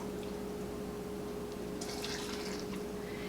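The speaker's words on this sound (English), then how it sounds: "And then we're going to fill the jar with water." Hot filtered water pours into a canning jar, heard as a faint splash and gurgle starting midway over a constant background hum.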